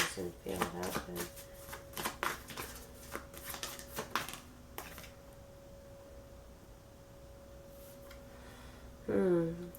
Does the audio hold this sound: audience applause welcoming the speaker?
no